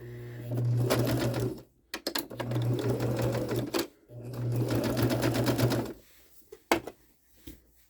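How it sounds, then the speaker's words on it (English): A sewing machine stitches a normal seam in three loud, steady runs with brief pauses between them, followed by a few clicks and handling noises. "So what I'm gonna do is sew this like a normal seam."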